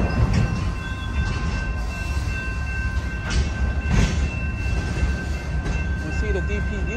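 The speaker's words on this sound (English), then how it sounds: "Whoa, we got a mile long train." A mile-long BNSF manifest freight train rumbles past the Calwa diamond crossing in Fresno, California, a loud continuous roar of wheels and cars with a steady high wheel squeal over it.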